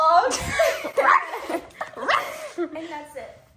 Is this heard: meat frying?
no